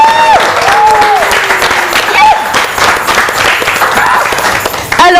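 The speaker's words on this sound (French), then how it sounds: "on va permettre à tous ceux qui sont dans le studio de pouvoir applaudir très fort" Studio audience applauding loudly at a Christmas Day broadcast, steady dense clapping with scattered whistles and cheers, while a voice talks over it throughout.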